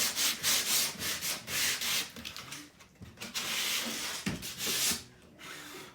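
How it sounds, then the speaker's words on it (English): Sandpaper rubbed back and forth over a wooden furniture surface before decoupage, close and fairly loud, with quick rasping strokes that pause briefly midway. "Everything sticks better when you sand the surface."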